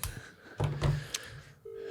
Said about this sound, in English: We call, they don't pick up, and then we wait and see if they call us back.